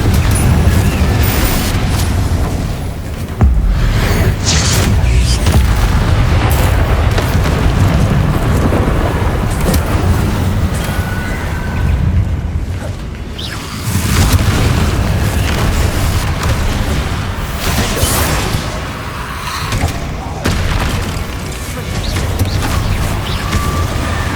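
Confringo fire spells explode in the video game Hogwarts Legacy on PS5, loud booming blasts and a heavy rumbling roar that swells and fades in waves through a long combat stretch.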